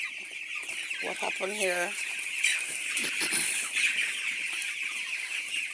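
Chickens cluck and squawk close by in a backyard flock being readied ahead of a hurricane, with a burst of rising calls early on and a voice speaking briefly over ongoing farmyard noise.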